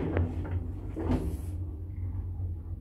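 Original shaft doors of a modernized hybrid elevator in Kraków slide shut with a short mechanical rumble and clack, heard over a steady low hum in an enclosed stairwell.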